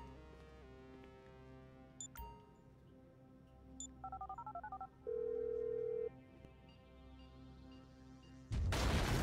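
Phone being dialed in Grand Theft Auto V: a quick run of bright keypad beeps, then a steady dial-type tone, over a low game music bed, ending in a loud burst of noise.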